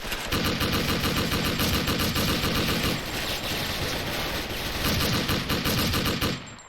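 SIG551 assault rifle firing in the online shooter Special Force, loud, rapid automatic bursts with a brief pause near the three-second mark, then resuming steadily before cutting off.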